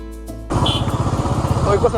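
After a brief quiet moment, motorcycle engines suddenly roar up close on the Nelliyampathy hill road in Kerala and keep rumbling loudly and steadily.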